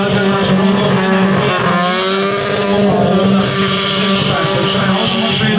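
Car doing a full-throttle burnout at a burnout challenge event in Priekule, Latvia, its engine roaring loud and steady at high revs close by, with a dense rumbling wash and crowd noise mixed in throughout.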